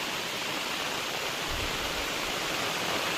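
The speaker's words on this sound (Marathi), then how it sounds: "हे पहा पाणी केवढा पडत हो मोकार पाणी आलं आहे" Heavy rain pours down in a steady, dense hiss that fills the scene evenly from start to finish, with no pauses and no voices.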